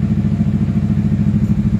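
A Yamaha XMAX V2 scooter engine runs steadily after starting, a loud, close, low idle hum with a slight rhythmic pulse and no talking.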